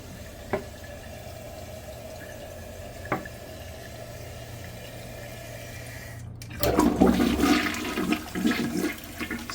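A toilet during a toilet paper flush test: a couple of faint clicks, then a loud rushing flush of water that swirls and gurgles close by for several seconds.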